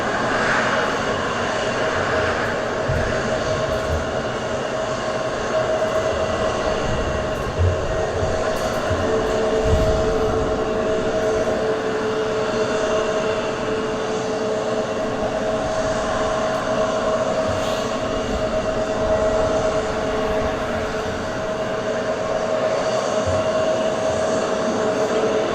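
An easyJet airliner at Southend Airport rolls down the runway on its takeoff run, a loud, steady engine roar with sustained tonal whine that holds strong throughout, with no talking.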